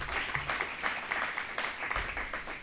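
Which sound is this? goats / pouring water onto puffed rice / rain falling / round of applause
round of applause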